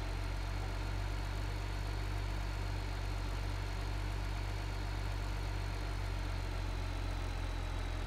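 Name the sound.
tractor engine bogging down on a hill in video game Farming Simulator 15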